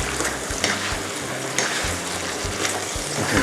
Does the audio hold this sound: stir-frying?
yes